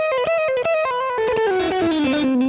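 Electric guitar tapping a Phrygian dominant scale fragment, with rapid, evenly spaced legato notes that rise then cascade downward, bright and slightly distorted, played alone without any talking.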